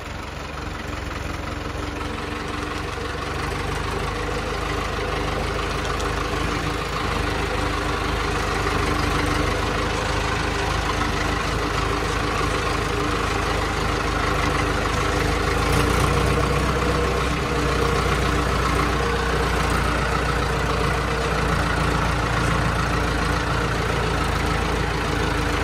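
A Mahindra or Arjun farm tractor engine runs steadily throughout, a continuous low, throbbing idle-like drone with mild vibration, fairly close and without talk.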